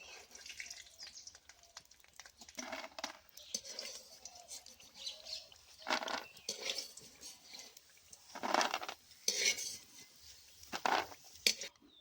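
Fried lentil dumplings (bori) are lifted out of a pan, giving intermittent scrapes, clinks and faint oil sizzle in short bursts over a quiet background.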